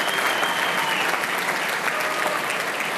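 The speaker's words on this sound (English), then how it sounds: "Yeah, deserved applause." Audience applause at an awards gala fills the room as a steady, dense clapping that holds at full strength throughout, with no break and no voices standing out.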